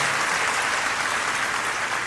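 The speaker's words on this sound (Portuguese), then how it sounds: "Pode dar uma salva de palmas ao Senhor." Church congregation giving a round of applause during a sermon, a short continuous wash of many hands clapping, fairly close and even, with no voice over it.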